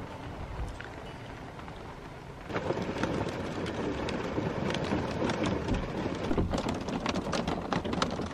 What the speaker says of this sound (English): It's a ridiculous amount of hail.